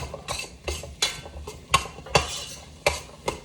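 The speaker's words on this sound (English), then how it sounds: "all of my onion garlic's in here. I am gonna go ahead and just give it a stir" A utensil stirs onion and garlic in a soup pot, producing a rhythmic series of sharp scraping clacks against the pot over a faint sizzle, close and without talking.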